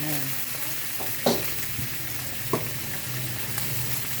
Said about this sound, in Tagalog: Gigisa po natin yung atay, ano.